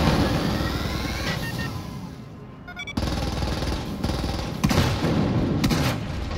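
Continuous loud gunfire and blasts in the VR shooter Wolfenstein Cyberpilot, dense bursts of shots hitting a wall, with a brief lull near the middle before the firing resumes.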